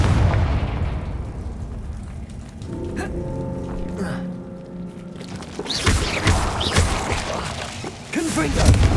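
Spell blasts of Confringo in Hogwarts Legacy: booming explosive thuds with crackling, debris-like bursts, rumbling near and loud, interrupted by a quieter tonal stretch before a further round of heavy impacts. A voice is briefly heard among the blasts.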